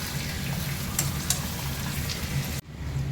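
Dried red chilli and cardamom stirred in hot oil in a pan for chicken, with a steady close sizzle, a couple of sharp spatula taps, and an abrupt cut near the end.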